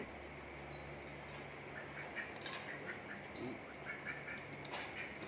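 Ducks quacking while attacking dogs, repeated faint honking calls over a steady background hum, somewhat distant and scattered across several seconds.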